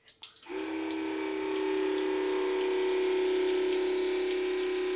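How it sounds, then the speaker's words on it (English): The pump of an X-ION Lite RO water purification system switching on, a few clicks and then a steady, close electric hum and whir that settles into a constant drone. "We'll hear the pump crank up."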